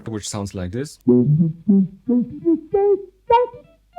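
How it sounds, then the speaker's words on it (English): A GFI System Rossie envelope filter pedal in low-pass mode: after a brief spoken phrase, about six separate filtered notes play one after another, each swelling with a rounded, vowel-like sweep, clear and close. "This is the low pass filter"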